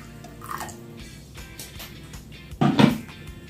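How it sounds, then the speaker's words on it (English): Hot water poured from a container to melt an ingredient: a low background trickle, then a short louder gush and splash near the end, with no voices. "I'm just going to pour my hot water here."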